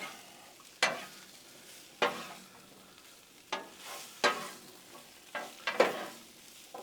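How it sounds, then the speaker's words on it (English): Onions fry on a Blackstone griddle under a quiet steady sizzle, punctuated by about eight sharp scraping strokes of a spatula, some spaced a second or more apart and two in quick succession near the end. "And start mixing up, break them onions up."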